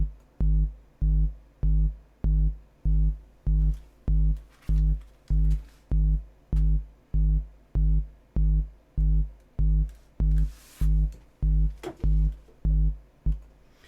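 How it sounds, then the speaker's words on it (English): DIY modular analogue synthesizer patch producing a simple rhythmic pulse: a steady train of evenly spaced, buzzy tonal beeps repeating about twice per second, alone and consistent, with slight brightness shifts near the end. "So it's just a simple rhythmic pulse."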